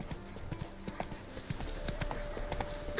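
Hooves of a galloping horse in The Witcher video game beat out a fast, steady clip-clop rhythm close by, with faint game sounds beneath.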